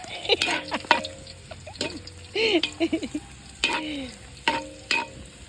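Garlic sautéing in a pan for duck adobo gives a low continuous sizzle broken by clattering utensil knocks and scrapes, with a voice speaking intermittently over it.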